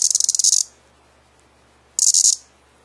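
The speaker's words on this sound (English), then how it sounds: "This here is a cicada." A cicada held up close gives two short, loud, rasping buzzes, the first pulsing rapidly for about half a second and the second similar after a pause of quiet background.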